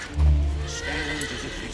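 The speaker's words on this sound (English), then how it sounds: "Come on, mount up. I picked out the very bestest horse." A horse whinnies once in King's Bounty 2. The neigh is loud and close, with a strong low onset that tapers into a long, breathy tail. A faint game ambience runs underneath, and no one speaks.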